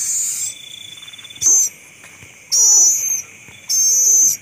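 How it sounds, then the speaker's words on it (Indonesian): Repeated bursts of a bird calling at night beside an owl enclosure, three loud shrill calls separated by pauses, over a steady background of insect chirping. "Nah, ini dia si burung hantunya ya."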